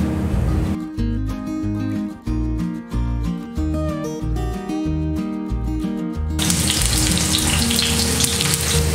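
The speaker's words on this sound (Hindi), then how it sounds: "ऑयल हमारा गर्म हो गया, अब हम इसमें प्याज ऐड करेंगे।" Onions hit hot oil on a tawa and fry with a steady, loud sizzle, close up and continuous, with no voices over it.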